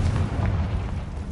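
A Confringo spell explodes in Hogwarts Legacy, a brief close low-heavy boom that rumbles for about a second without fading much.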